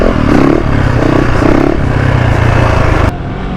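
A motorcycle accelerates hard while pulling a wheelie, its engine loud, close and roaring steadily for a few seconds before cutting off abruptly.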